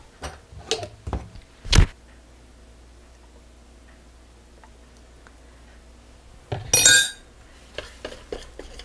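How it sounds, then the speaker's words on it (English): A teaspoon clinks sharply against a pot as vanilla and marshmallow fluff go into thickening homemade fudge, a few close metallic taps, then a louder scraping clatter near the end. "Now I'll get my teaspoon of vanilla and the marshmallow."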